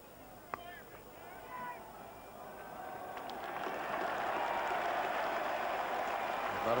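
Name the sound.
crowd applause for Geoff Boycott at Lord's cricket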